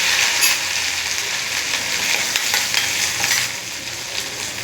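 Garlic and cumin paste with asafoetida and chilli hitting hot oil for a matar paneer gravy, a loud, steady close-up sizzle with crackling spatter and light stirring throughout.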